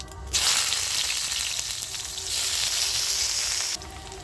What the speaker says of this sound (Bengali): তো পেঁয়াজটা ভালো করে আমার ভাজা হয়ে গেছে।